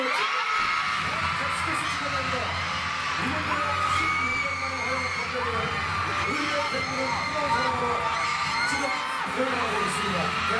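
Fans cheer and scream loudly and continuously at the Seoul Music Awards as a group receives a main prize, a dense, steady wall of crowd noise filling the hall from start to finish.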